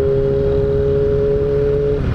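A Yamaha XJ motorcycle engine runs steady and loud, holding a strong tone throughout with a slight pitch drop near the end, close by with no talk.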